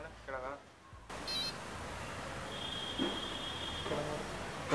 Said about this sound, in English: Now you get 3 beep sounds.